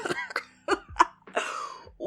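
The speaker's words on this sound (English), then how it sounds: "Keigo choked on his spit, coughed laced with laughter overruling the silence of the studio" A voice acts out a choking cough mixed with laughter in a quiet studio setting: a few sharp, throaty coughs and breathy laughing bursts, close and fairly loud.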